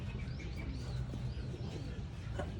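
Pigeons in a breeding colony coo and murmur steadily at close range, a continuous low cooing bed with faint chirps over it.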